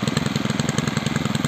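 A restored Zenoah G300 two-stroke brushcutter engine runs close by at a steady idle, a rapid, even putter with regular pulses throughout and no talk.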